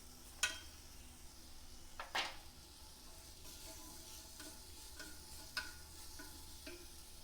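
Quail stirred in a cooking pot for kabsa, with a low background sizzle broken by a few sharp scrapes and clinks of a utensil against the pot.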